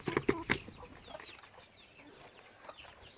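Month-old Silkie chicks cluck and peep, a few soft close calls at the start followed by faint scattered chirps over quiet background.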